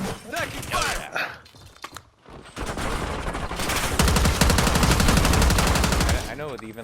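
Gunfire in the Call of Duty video game: sustained rapid automatic bursts, loud and dense, with a brief lull then a long continuous volley, plus scattered game effects.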